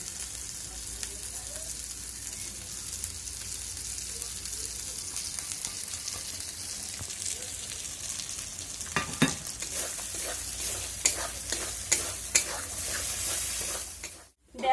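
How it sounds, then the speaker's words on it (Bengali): Egg frying with spice masala in a pan, a steady close sizzle with scraping stirs of a spatula growing more frequent toward the end, no talking. "দেখো আমাদের ডিম দিয়ে মশলাটা ভাজা একেবারেই হয়ে গেছে"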